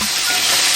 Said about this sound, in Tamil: இந்த மசாலாலாம் போட்டு இப்படி ஒரு கிண்டி விடுங்க